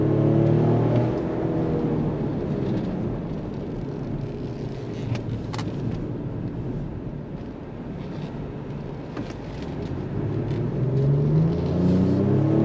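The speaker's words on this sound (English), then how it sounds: "On throttle, here we go." A 2026 Ford Explorer Tremor SUV accelerates on throttle, its engine note rising from a low rumbling drone into a building roar, heard from inside the cabin with steady road noise beneath.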